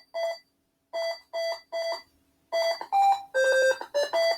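A coded electronic alarm plays the Jingle Bells melody as a series of clean synthetic beeping tones, first in short separated notes, then a faster run, loud and alone.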